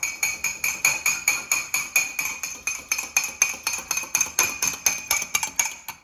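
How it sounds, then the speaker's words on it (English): An egg is whisked with a fork in a mug, making rapid, even clinks of metal against ceramic, roughly five per second, close and steady throughout with no talking. "And I will whisk it with a fork."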